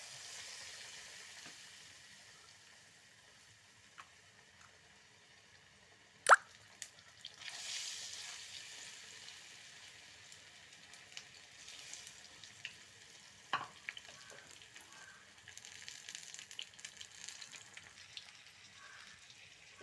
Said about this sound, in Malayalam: ഒരു ഇരുമ്പ് ചട്ടി അടുപ്പത്ത് വെച്ചിട്ടുണ്ട് എണ്ണ ഒഴിച്ച് ചൂടായി വന്നിട്ടുണ്ട് നമുക്കിതിലേക്ക് ഇലകൾ ഇട്ട് കൊടുക്കാം